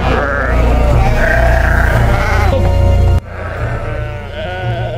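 Loud, close sheep bleat in long wavering cries among farm livestock, several animals calling over and after one another across a noisy pen with no talk.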